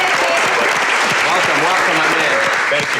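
A studio audience on a Food Network cooking show applauds as a chef walks on, loud continuous clapping with a host and guest exchanging brief greetings over it.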